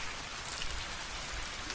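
Steady, dense rain falling on a surface in a horror cartoon set on a stormy night, a continuous even patter with no voices.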